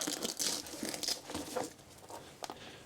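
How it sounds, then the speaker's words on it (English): Crackly tearing rips of a hook-and-loop strap on a transmitter winter case being pulled apart, several short bursts close up with light rustling between. "Velcro here."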